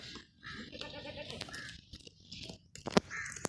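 A plump, healthy nanny goat of good quality, recently kidded and lively, bleats loudly at close range in one sharp burst near the end, with softer farmyard shuffling and a few fainter calls earlier.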